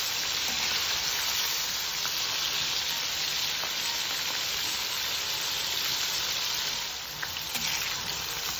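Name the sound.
squid (calamari) frying in oil until golden brown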